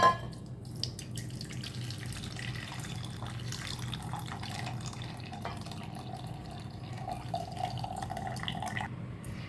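Water trickling and dripping as it is drained off boiled horse gram, a steady soft splashing flow with occasional drips, no talking.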